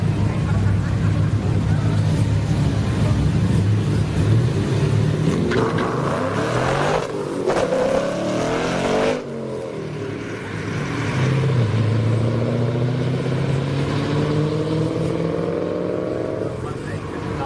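A Chevrolet Cobalt SS and a Ford Mustang GT run a drag race at an Orlando track, their engines roaring loudly and sweeping up through the gears as they launch and pull down the strip.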